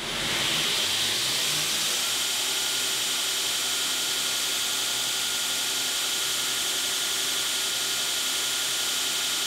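A Northridge Tool 2X72 belt grinder runs steadily with no one speaking, a loud continuous whirring hiss that stays even from start to finish.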